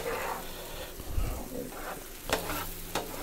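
Creamy chicken curry sauce bubbles and sizzles on a griddle while being stirred, with scraping strokes and a few sharper knocks of the utensil against the hot surface.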